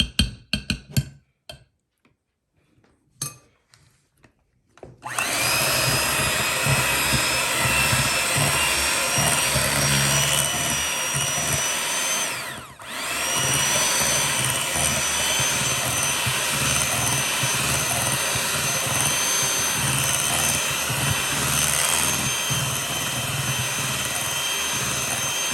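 An electric mixer whirs through strawberry cheesecake batter with lemon zest, starting after a few seconds of faint clatter, then a steady close motor whine that dips briefly in the middle before resuming.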